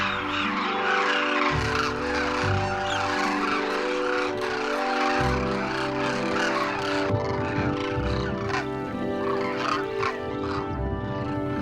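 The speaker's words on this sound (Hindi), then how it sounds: "फिर ये पक्षी इस बाड़े से निकलकर गांव के तालाब की तरफ चल पड़ते हैं।" A large flock of birds leaves a village feeding enclosure in the Barmer-Jaisalmer desert region. Dense, continuous calling and chatter from many birds fills the scene, with steady wing and movement noise and no talking.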